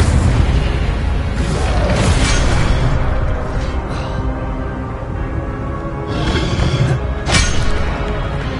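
The Incendio fire spell blast in the Hogwarts Legacy video game makes a loud, sustained roaring burst of flame and rumbling booms, continuous throughout with brief swelling crackles, and no talking.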